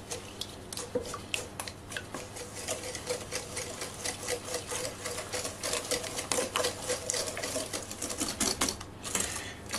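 Eggs and sugar are whisked by hand in a bowl, four eggs with two cups of sugar, making rapid, continuous rhythmic clicking and scraping close by, with no talk.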